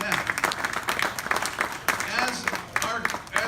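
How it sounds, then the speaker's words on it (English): A crowd at an inaugural JetBlue party at Ontario airport claps briefly and unevenly, with voices talking over the patchy applause. "Yeah, we can clap for that."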